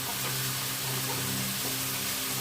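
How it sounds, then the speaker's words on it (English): Food frying in a pan on a home stove gives a continuous close sizzle with a low steady hum underneath and no talking. "while these two things are cooking and frying up"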